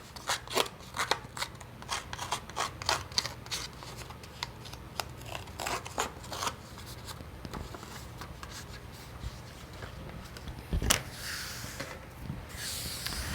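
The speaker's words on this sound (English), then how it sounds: "You can also do it with the edge of your scissors like I am here." Scratchy scraping strokes of a blade edge rubbing across paper, coming in quick repeated bursts with short pauses, close and fairly quiet.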